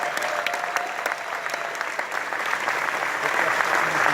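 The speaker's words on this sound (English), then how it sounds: "So let's give him another round of applause" Delegates at an AFL-CIO union convention give a round of applause, broad crowd clapping that builds slightly louder toward the end, with a voice audible underneath.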